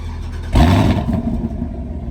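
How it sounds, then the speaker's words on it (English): A Chevrolet Camaro engine with its secondary catalytic converters removed idles with a rough, raspy exhaust, then blips sharply louder around the half-second mark before settling into a burbling, uneven rumble. "I'm gonna insert a clip of how it used to sound with just a secondary cat's cut"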